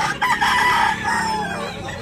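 A 17-month-old Boston Roundhead yellow-legged rooster crows once, close and loud, with a drawn-out call and a little clucking before it.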